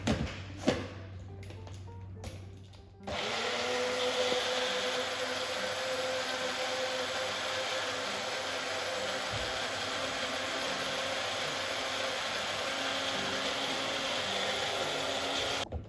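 A few brief knocks come first, then a blender motor whirs into a steady, unbroken drone that runs to the end, close up and with no voices.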